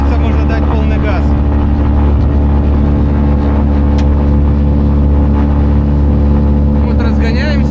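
A Stemme S 10 VT motor glider's engine runs at full throttle during its takeoff run, a loud, steady, droning roar that stays strong and close throughout.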